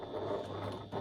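A sewing machine stitching along the outside edge of a fabric pocket, a steady fast mechanical whirr with an even clicking rhythm, close and fairly quiet, alone without talk.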